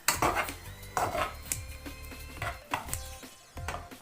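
Cooked vermicelli being cut with a knife on a board, a series of sharp chopping knocks in an uneven rhythm, close and clear with no talking.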